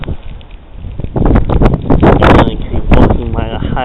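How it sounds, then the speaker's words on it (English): Strong blizzard wind roars and buffets the microphone in heavy, continuous gusts while someone walks outdoors as 8 to 10 inches of snow is expected; the rumble swells and stays loud throughout. "It's really windy."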